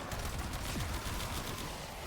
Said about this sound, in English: Let's go ahead and pull out the Compressor here.